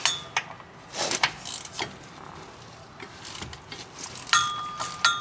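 A wrench turns a bolt that keeps spinning on a Porsche Cayenne rear cardan driveshaft, giving faint, scattered mechanical clicks and creaks in short bursts over a quiet background.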